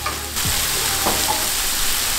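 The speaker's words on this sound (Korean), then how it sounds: "버터와 양파를 이렇게 볶다 보면은 굉장히 버섯이 부드러워지는 그 느낌에" Butter, onion and mushrooms frying in a pan for a mushroom cream sauce, giving a steady close sizzle with a couple of brief stirring scrapes and no talk.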